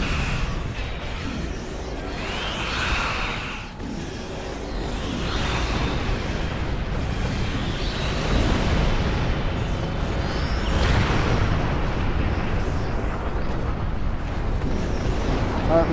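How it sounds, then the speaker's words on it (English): A cluster torpedo launches from a starship in Star Trek Online amid sustained rumbling space-combat explosions and whooshes, a dense, loud wash of booms throughout. "Got the Raider here. Cluster torpedo."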